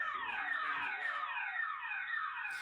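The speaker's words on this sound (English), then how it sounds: "a quick access to the alarm sound as well" A solar security camera's alarm siren sweeps repeatedly downward in pitch, a steady shrill wailing tone, fairly quiet with no other sounds.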